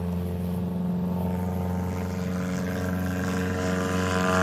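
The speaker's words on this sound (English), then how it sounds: "Keith Lang on the takeoff roll." A STOL aircraft on its takeoff roll at a mountain competition airstrip gives off a steady, droning propeller and engine hum, moderately loud and constant throughout, with no voices.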